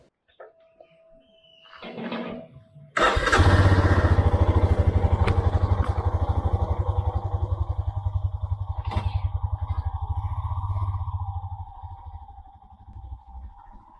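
A 2022 Royal Enfield Himalayan starts up and rides along a residential street, its single-cylinder engine thumping steadily and loudly up close for several seconds before easing off.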